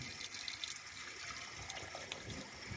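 Water is poured gently over the face during wudu ablution, a close, uneven trickling and splashing that surges briefly at moments, with no voice over it.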